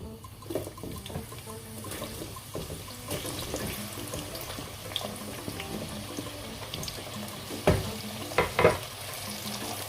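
Two medium sliced onions go into hot oil in a cooking pot, giving a continuous close hiss and crackle of frying, with a few louder spatters and bumps toward the end.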